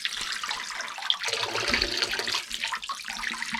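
Fresh spring water runs steadily from a fountain in the hot mountain village of Piódão, a continuous close splashing stream with small bursts of movement and no talk.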